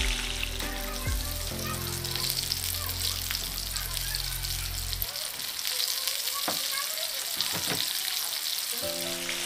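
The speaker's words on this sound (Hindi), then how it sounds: "इसको धीरे धीरे अपने एक एक एक एक पीसेस डाल देना है ऑयल के अंदर।" Chicken pieces frying in oil over a slow flame, a constant close crackling sizzle with occasional bubbling pops, alongside a low humming tone that drops away partway through.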